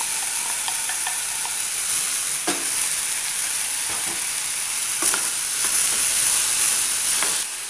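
Soy meat sizzles and hisses steadily in a hot frying pan, with a few scraping stir clicks and clatters scattered over the continuous frying noise; no one talks.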